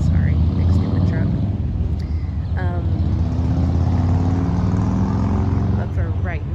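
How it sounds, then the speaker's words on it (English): A big truck rumbles past close by with a loud, low engine roar that fills the whole stretch and fades slightly at the end, while a person talks over it. "Sorry, big stupid truck."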